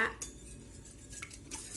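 Metal utensils clink lightly against a frying pan a few times, with a quiet, scattered rhythm in a calm room, while making wide rice noodles.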